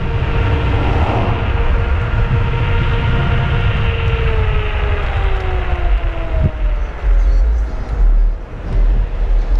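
A YUME Hawk 2400-watt electric scooter runs at full throttle near its 30 mph top speed, giving a steady loud motor whine with rising tonal bands over heavy wind rumble throughout.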